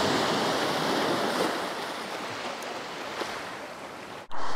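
Sea waves roll onto the shore near Anapa, a loud, steady wash of surf with wind buffeting the microphone, cut off abruptly just before the end.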